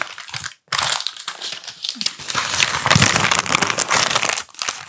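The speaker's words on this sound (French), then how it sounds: "ça fait 5 jours que je me retiens d'ouvrir ce colis pour le faire devant vous" A parcel being opened, its plastic and paper packaging crinkling and crushing loudly up close in irregular bursts, with a short pause near the start and another near the end, and no talking.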